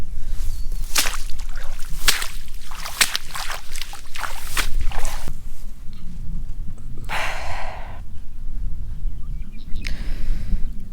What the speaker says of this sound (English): Just gotta wash my boots off in the swamp here